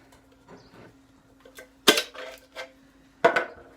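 A spoon scrapes and knocks against a pot while tomato sauce is stirred into a fettuccine sauce, a few sharp metallic clacks among soft scraping, close and otherwise quiet.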